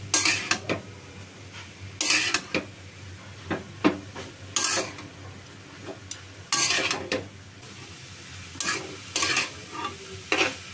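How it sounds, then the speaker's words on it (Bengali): Broccoli being stir-fried with meat that was already cooked down in a pan. Repeated scraping and stirring strokes come over a steady sizzle, close and fairly loud, with no talk. "এখন আমি এই ব্রোকলিগুলো দিয়ে দিব। এটা এখন ভাজি ভাজি করে ফেলবো।"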